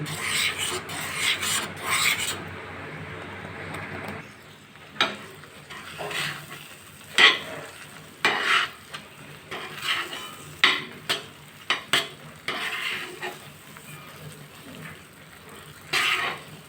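Semolina and mango sweet being stirred continuously in a pan over a low gas flame, giving a steady close scraping and rasping with several sharper scrapes and clacks of the spoon against the pan.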